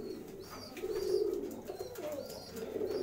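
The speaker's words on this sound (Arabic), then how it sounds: "الحمام اهو شكله رائع جدا" Pigeons coo softly in low, rolling murmurs that repeat throughout, faint and somewhat distant, with a few light chirps above.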